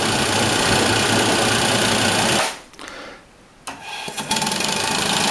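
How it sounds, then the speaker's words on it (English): A steam engine chugs loudly and rhythmically as it drives a gypsy winch under load, briefly dropping to near quiet before the mechanical clatter resumes. "the engine starts pulling the machine"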